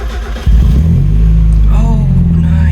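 A Mazda NA Miata engine catches after a brief quiet moment, then settles into a loud, close, steady low idle, with a voice briefly speaking over it.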